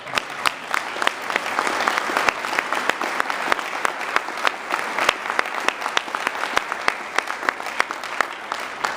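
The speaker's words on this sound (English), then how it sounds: "please join me in giving these two another round of applause" Guests at a Prince William County Democrats Jefferson-Jackson dinner in Virginia give sustained applause, a thick spread of clapping punctuated by many sharp, distinct close claps throughout.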